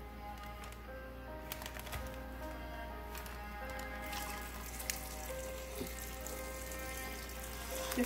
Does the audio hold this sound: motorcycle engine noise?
no